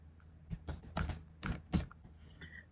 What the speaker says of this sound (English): but I'm typing